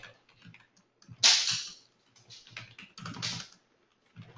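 Keys clatter on a computer keyboard in short bursts of quick, close clicks, with brief pauses between typed phrases in an otherwise quiet room.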